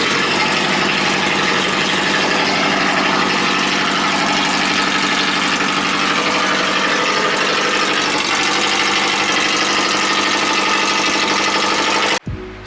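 A rebuilt turbocharged Subaru SOHC EJ20 engine runs at a loud, steady idle with a rough, throbbing rumble close by, then cuts off abruptly just before the end.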